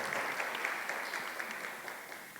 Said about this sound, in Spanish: Nuevamente, fuerte el aplauso para él.